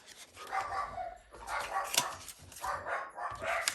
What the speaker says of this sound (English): I do not know what my dogs are barking about.